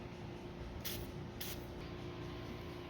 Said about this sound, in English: And just spray a couple just in case it's stuck.